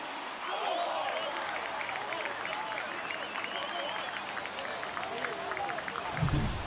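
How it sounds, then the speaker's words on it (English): Crowd cheers and applauds in a stadium after a home run in MLB The Show: a sustained, fairly loud roar under commentary, swelling slightly near the end. "He just sparked this home crowd in a big way."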